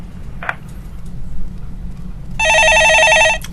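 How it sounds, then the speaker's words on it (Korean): A telephone in a broadcast studio rings with one sustained electronic trill near the end, loud and close, after a quiet stretch with a brief click. "예, 전화 받아보겠습니다."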